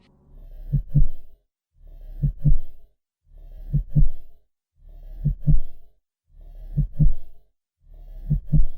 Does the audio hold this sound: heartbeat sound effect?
yes